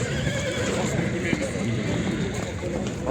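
At the Sokuluk horse market a horse neighs among the crowd, with hoof clip-clop and people talking in the background throughout.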